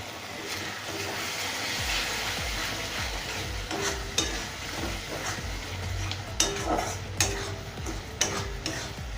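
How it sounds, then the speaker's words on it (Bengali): Potatoes and pointed gourd are stirred in a frying spice mix with a little water, giving a steady close sizzle with scraping spoon strokes and a few sharper clinks against the pan. "এবারে আমি এতে আলু আর পটলটা দিয়ে দেবো। সামান্য একটু জল দিয়ে মশলাটা একটু নেড়ে"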